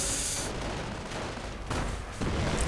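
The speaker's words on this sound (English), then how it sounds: "Panzer Faust connects." In a World War II strategy game, a Panzerfaust strikes a Greyhound armored car, a dull explosive thud followed by crackling, rumbling battle noise and further bursts.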